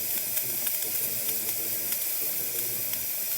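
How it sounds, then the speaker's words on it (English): A steady hiss of a DeLonghi Magnifica XS espresso machine steam wand blowing continuously, bright and close, over faint background clatter. "Did we get nice strong steam?"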